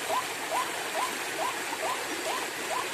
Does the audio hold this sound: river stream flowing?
yes